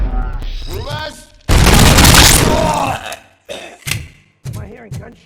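Heavy game gunfire bursts out in a loud, dense barrage from RoboCop: Rogue City, lasting over a second amid gruff voices and grunts, followed by shorter thumping shots between spoken lines.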